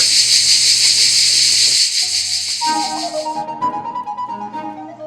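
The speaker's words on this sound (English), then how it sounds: "The cicada, a typical insect of Provence, fills the summer air with its song." A cicada in Provence summer sings a dense, steady high buzz for several seconds before cutting off, leaving quieter chirps and faint background sounds.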